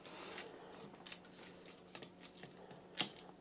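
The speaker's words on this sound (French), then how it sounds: "J'épluche et je coupe mes brins" Wicker strands for basketry being peeled and snipped, producing a series of crisp clicks and cuts at irregular intervals, close and fairly quiet, with one sharper snip near the end.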